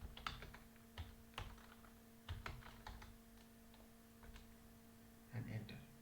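Typing on a computer keyboard, with scattered key clicks in short bursts and a cluster of strokes near the end, fairly close against a steady background hum.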